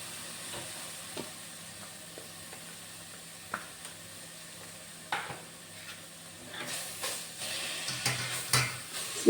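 Spinach thoran with grated coconut being stirred in a pan over a steady low sizzle, with soft scrapes and taps of the spoon that grow busier and louder toward the end.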